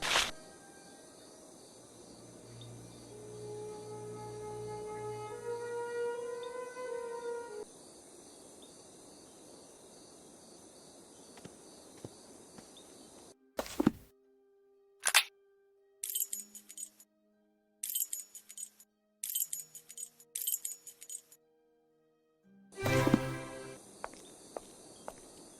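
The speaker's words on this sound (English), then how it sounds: "A strange call, like a series of cracks alternating with smooth notes." A strange bird in a Sherlock Holmes video game gives a series of sharp cracks mixed with smooth notes, short clicking bursts broken by silences over a quiet night ambience with insect chirps.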